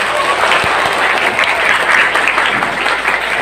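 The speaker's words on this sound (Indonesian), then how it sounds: "Mana tepuk tangannya?" Sustained, dense audience applause from a school crowd at a junior high orientation event at SMP Negeri 6 Pemalang, steady and fairly loud throughout with no let-up.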